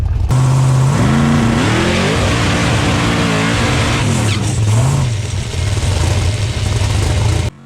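A drag car launches hard down the strip, its loud engine sweeping up through the revs in rising bursts before settling into a steady roar, close and alone.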